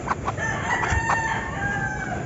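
Rooster crowing from a bantam and labuyo crossbreed on a farm, one steady crow at moderate distance with faint clucking from other fowl around it and no talk.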